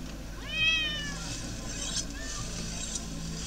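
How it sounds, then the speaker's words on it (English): A cat meowing in the video game Unearthed: Trail of Ibn Battuta, one drawn-out rising and falling meow followed by a shorter, fainter one over a low steady background hum. "What were they doing to that cat when they recorded those sounds?"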